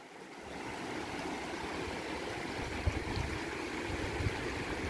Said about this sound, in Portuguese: Vejam aqui a correnteza da água no rio.